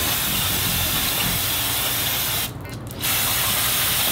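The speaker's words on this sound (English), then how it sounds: "turn on the compressed air, blow everything and anything out of there" Compressed air blasts into a Subaru WRX STi engine during reassembly to clear out contaminants, a loud continuous hiss that cuts out briefly near the middle and then resumes.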